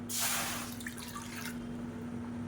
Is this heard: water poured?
yes